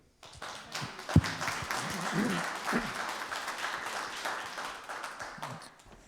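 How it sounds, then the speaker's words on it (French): An audience claps steadily for several seconds, a dense patter of many hands that swells briefly and fades at the end. "On peut l'applaudir."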